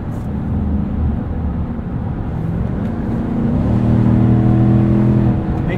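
On the road, a Chevrolet Silverado High Country's 6.2-liter V8 with valved exhaust hums along, then swells as the truck accelerates in the last few seconds. The engine sound is steady and close, with no voices over it.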